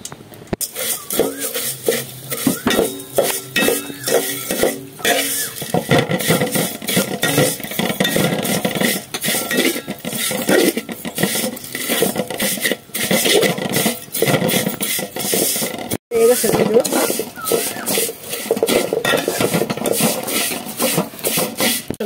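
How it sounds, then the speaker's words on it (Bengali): Dry vermicelli being fried in ghee and stirred in a pan, a continuous close rasping, scraping rub that runs throughout at a fairly loud level. "ঘি দিয়ে সেমাইটা ভাজুম"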